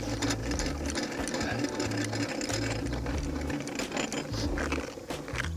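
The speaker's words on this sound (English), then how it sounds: "put the brace onto the hex drive and wind the leg down" Hand brace turning the hex drive to wind down the corner leg of an MDC XT16HR offroad caravan, a steady close mechanical clatter and ratcheting rumble running throughout.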